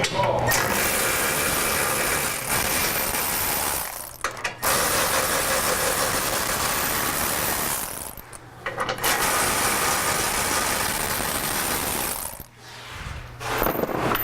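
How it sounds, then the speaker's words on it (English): A ratchet removing the bolts that hold the receiver hitch on a Toyota Tundra, rapid clicking runs in long bursts with short pauses between, close and loud. "So I'm going to go back and remove the 4 bolts back here, securing the hitch."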